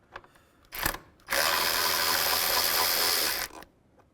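A ratchet spins a 10 mm bolt on the radiator of a 2015-2019 Hyundai Sonata, with a brief clicking burst followed by a steady, close whirring run of about two seconds.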